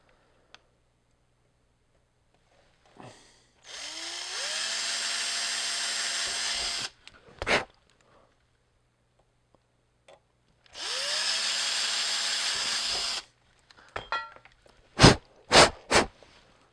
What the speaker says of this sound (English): But first we have to drill 2 holes, so we want to make sure we're not going to drill through a trace.